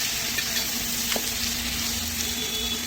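Brinjal fries and sizzles in a pan while being stirred, a steady close hiss of hot oil with soft scraping, no talk.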